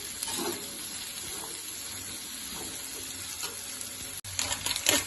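Pieces of mango for pickle are stirred in a pan, giving a steady hiss and sizzle with soft scraping, then a few louder clatters near the end.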